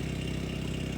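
A small houseboat's engine runs at a steady idle-like chug, a low, even, close rumble with regular pulses and no distinct knock standing out.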